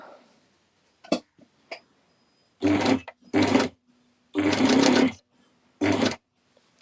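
Sewing machine stitching wool fabric, running in several short bursts of a second or so each, separated by silent pauses, close and clear with a few faint clicks between.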